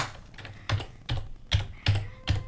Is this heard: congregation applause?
no